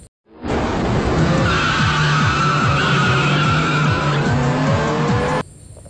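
Race cars launch off the start line with loud tire squeal and skidding, engines roaring as they climb through repeated quick gear shifts for about five seconds, then cut off abruptly.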